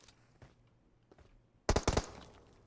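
Several rapid gunshots in PUBG Mobile, fired in single-shot mode, come as a tight burst of sharp cracks after near silence, with a faint tap or two earlier.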